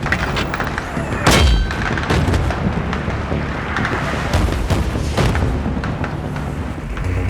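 Heavy artillery fire in the Battlefield 3 war game: dense, continuous booms and crackling impacts rolling over several seconds, with a few louder near blasts punching through the dense battle din.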